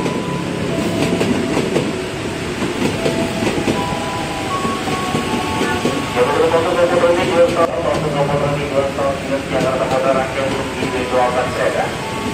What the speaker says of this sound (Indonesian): Ini dia JRS 205 10 kereta.